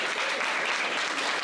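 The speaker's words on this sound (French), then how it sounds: "On peut l'applaudir, effectivement." A room full of people claps steadily during a company honouring at a year-in-review event, dense close applause filling the whole stretch without any speech.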